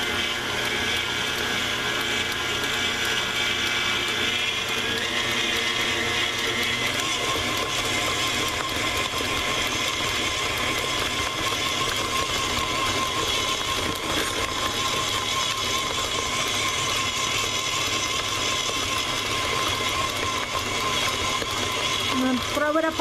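An electric mixer beats butter and peanut butter with milk for peanut butter bars, a steady whirring drone that runs throughout, its pitch rising slightly as the speed increases, with a person talking over it.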